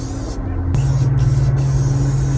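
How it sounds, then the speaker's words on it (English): Aerosol can of Better Weld sprayed onto intercooler piping on a compound-turbo 6.5 diesel build, heard as a steady close hiss running through most of the clip over a low hum. "Go ahead and hit those with a can of Better Weld."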